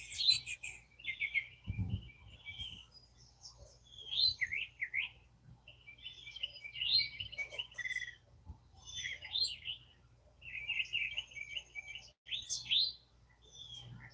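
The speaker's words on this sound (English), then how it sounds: "The birds were singing" Birds sing at dawn in a series of bright chirps and warbled phrases at moderate distance. A single soft thump breaks in early, and there is no talk.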